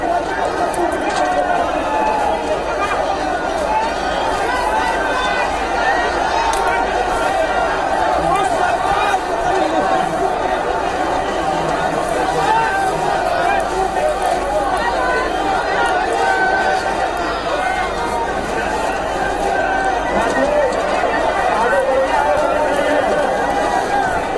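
A dense crowd of BJP workers clashes with police during a march toward the CM House, producing a continuous roar of overlapping shouting and chatter with a steady, unbroken loudness.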